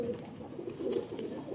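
A pigeon coos faintly in a loft, a soft low murmuring call against quiet background noise.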